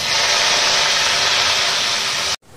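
Onion paste dropped into hot mustard oil in a wok, a loud, steady broadband sizzle that holds evenly before cutting off abruptly near the end.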